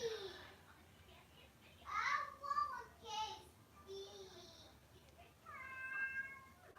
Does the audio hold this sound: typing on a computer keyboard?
no